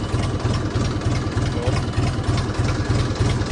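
A tractor engine, started in neutral on a reverser, idles with a loud, steady low chugging pulse repeating several times a second, close by, without talking over it.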